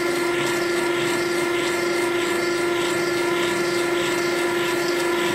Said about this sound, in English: Then it'll start to machine the outer landing for the outer double spring.